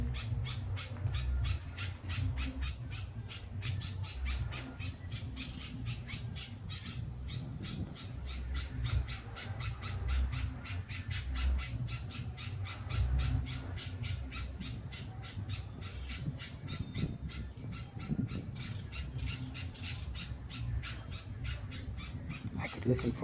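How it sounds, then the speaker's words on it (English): Birds squawk and call repeatedly just outside a front door of a house in Zimbabwe during the rainy season, a steady chorus of rapid calls at moderate distance with some talk mixed in. "Every time I step out my front door, there's some sort of bird making a sound"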